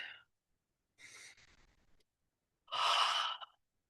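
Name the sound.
breathing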